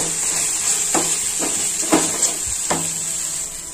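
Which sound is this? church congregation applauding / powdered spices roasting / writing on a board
powdered spices roasting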